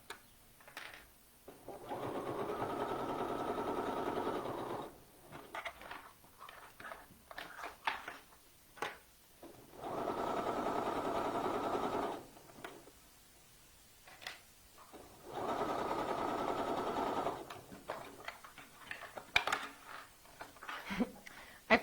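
A sewing machine runs a small zigzag stitch along seams on a Ditto Lauren top, sounding in three steady bursts of a few seconds each, separated by quiet pauses with soft handling noises.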